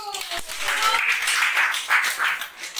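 Classroom of students clapping for a classmate during a maths lesson, a brief burst of scattered hand claps with a tonal voice-like sound at the start, fading unevenly toward the end.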